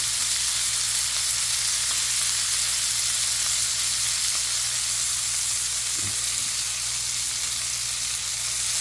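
Duck searing in butter in a pan, a steady loud sizzle and fry hiss running unbroken throughout, with a brief soft knock partway through and no voices.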